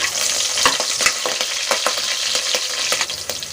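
Green chilies sautéing in hot oil in a pan after ginger and garlic, with a steady bright sizzle and crackle punctuated by repeated stirring scrapes, close and continuous with no talking.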